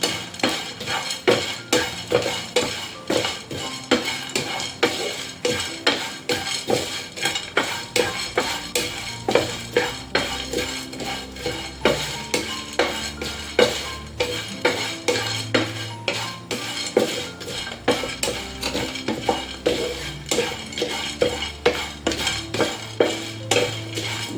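Rhythmic scraping and clinking of a utensil stirring spices dry-roasting in a metal pan, repeated steadily throughout, with a faint dry rustle underneath.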